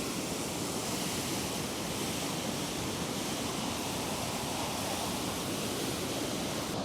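A waterfall in Peru's Cordillera Blanca crashes into a river below, a dense, constant roar of falling and splashing water, loud and close with no voices over it.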